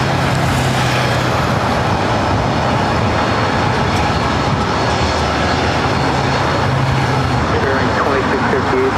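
Jet aircraft on the runway at LAX airport, a steady loud engine rumble and roar close at hand, with a low droning tone coming and going and voices mixed in.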